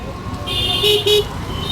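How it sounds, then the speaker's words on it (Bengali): Car horns toot in a couple of short blasts over a steady rumble of traffic in a narrow market lane, heard from a Bajaj Chetak electric scooter, with murmuring voices in the background. "সারাক্ষণই হর্ন মেরে মেরে যেতে হয়।"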